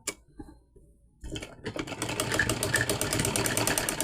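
A sewing machine darns a torn suit. After a second of faint ticking it starts up, and a loud, close, fast steady rattle of stitching runs to the end.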